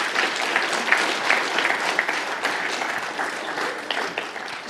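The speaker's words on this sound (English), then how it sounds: "One more round of applause for Linda." Sustained applause fills a room as an audience claps steadily and fairly close for the whole stretch, with no talking over it.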